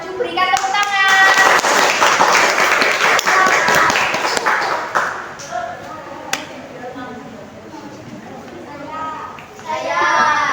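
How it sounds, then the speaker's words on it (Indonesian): Students in a classroom clap for the first group, a dense burst of applause lasting about five seconds with children's voices mixed in, then trailing into scattered chatter and talk. "berikan tepuk tangan"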